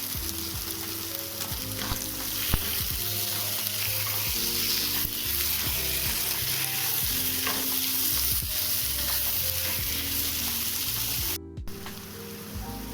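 Chopped onions and tomatoes fry in a pan with a dense, steady sizzle, broken by repeated scraping stirs from a spoon throughout.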